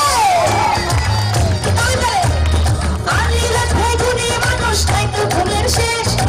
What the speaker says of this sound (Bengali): এই যে বিউটি কুইনটার জন্য একটা তালি দিব সবাই মিলে